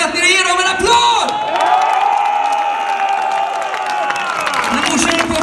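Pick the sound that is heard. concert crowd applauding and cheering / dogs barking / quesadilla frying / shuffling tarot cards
concert crowd applauding and cheering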